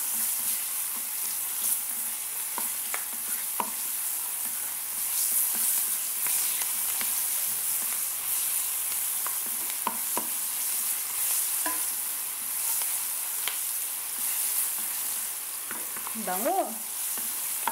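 Onions go into garlic already frying in a home-kitchen pan for vegetable kare-kare, raising a steady close sizzle with scrapes of stirring throughout and a brief voice near the end.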